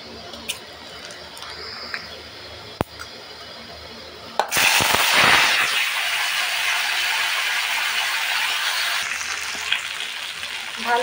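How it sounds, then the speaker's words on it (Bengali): Mustard seeds hit hot oil in a pan used for frying hilsa fish. A quiet kitchen gives way to a sudden loud, sustained hiss and spluttering that slowly settles. "এবার সরষে ফোড়ন দেবো।"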